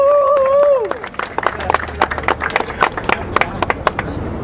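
Applause from an audience at a railway revival press conference breaks out after a short tone, with scattered sharp claps that spread into a steady patter and then thin out, and some crowd murmur mixed in.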